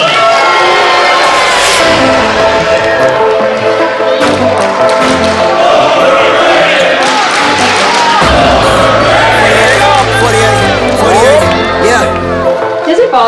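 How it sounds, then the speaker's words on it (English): A loud, dense indoor crowd at a high school basketball game roars and shouts continuously, with rhythmic chanting voices rising together and scattered thumps echoing in a packed gym. "Does it bother you to hear the crowd chant overrated?"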